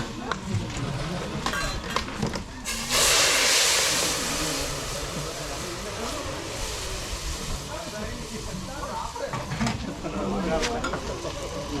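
Spiced oil tempering (vaghar) for wild undhiyu hits with a sudden loud hissing sizzle that fades into softer crackling, while people talk nearby throughout.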